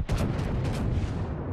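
Naval gunfire from a warship battle in World of Warships, a brief cluster of heavy, booming shots with rumbling decay, loud and close.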